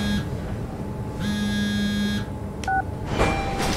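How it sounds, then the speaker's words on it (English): A mobile phone rings in the video game SOMA, playing an electronic ringtone of sustained buzzing tones followed by short beeps, fairly loud and close and heard without any talking. "Wait, whose phone? Oh, it's mine."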